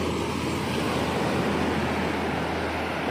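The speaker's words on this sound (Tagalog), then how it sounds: "mas malakas ang alon dito sa gilid" Ocean waves on a rocky shore at San Juan, Bacon, Sorsogon give a steady, dense surf rush, loud and close with low wind rumble, and no distinct individual crashes.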